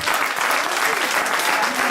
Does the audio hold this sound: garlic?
no